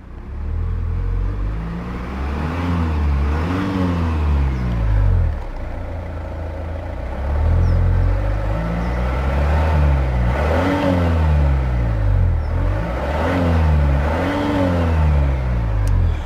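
Diesel engine of a 2017 Volvo V90 2.0 D5 PowerPulse AWD revving repeatedly up to its 3000 RPM limiter, several rising and falling rev sweeps close up, loud and steady with no talking.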